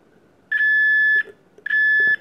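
A multimeter on continuity mode, checking the transformer of a blown Xbox One power supply, gives two steady, piercing electronic beeps, each lasting under a second and separated by a short gap, close and loud over a quiet workbench.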